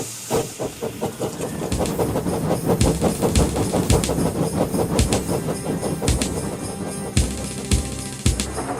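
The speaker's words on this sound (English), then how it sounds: "They puffed busily backwards and forwards, patrolling the line." Twin steam tank engines, coupled back to back with snowploughs on their fronts, puff steadily along a snowy line with rhythmic chuffing, steam hiss and rail clatter, loud and close, with a few sharp bangs near the end.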